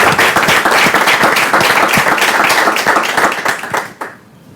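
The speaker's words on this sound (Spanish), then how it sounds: "un aplauso para vosotros" An audience at a human resources sustainability presentation in Spain bursts into loud, close applause of many individual claps, which tails off and stops abruptly near the end.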